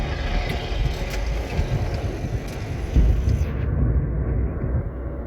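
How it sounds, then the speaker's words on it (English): Volkswagen Golf Mk1 with a freshly rebuilt engine driving on the road, heard from inside as a continuous low rumble of engine and road noise that swells slightly under acceleration. "Just touching the accelerator slightly and the car is going."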